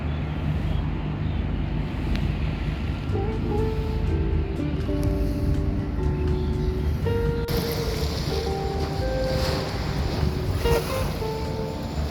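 Steady wind gusts and lapping water along a Bangkok riverbank make a continuous broadband rush, fairly loud and close, with no talking.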